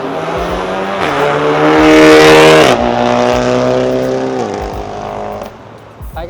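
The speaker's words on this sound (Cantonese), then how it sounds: "大家好似喺度直路嗰度都踩得好盡興下喎" Several cars accelerate hard along a straight mountain road, their loud engines revving and rising in pitch through the gears, one strong pass peaking near the start before the roar eases and fades at the end.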